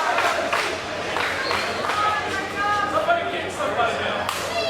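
Crowd at an Adam Cole independent wrestling match in Elizabeth, PA, steadily cheering and clapping in the arena, with voices swelling and chanting throughout.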